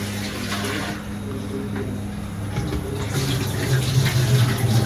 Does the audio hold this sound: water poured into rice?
yes